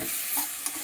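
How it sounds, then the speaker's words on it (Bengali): Spice masala with a little water is stirred in a pan for a plantain and hilsa fish curry, giving a close, steady sizzle with soft scraping strokes. "একটু নাড়াচাড়া করে দিলাম"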